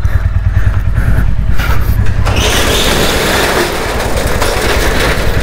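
Royal Enfield Classic 350 motorcycle engine cranking and catching, a loud, close low thumping idle that rises into a rougher, busier roar partway through.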